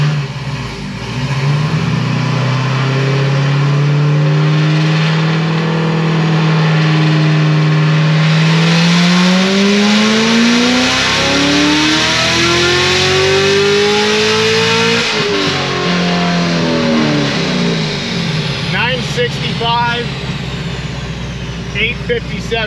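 A Magnuson-supercharged C7 Corvette Z06 with heads and cam screams through a dyno pull. Its loud pitch climbs steadily for about fifteen seconds, then drops back to a rough burble with crackles.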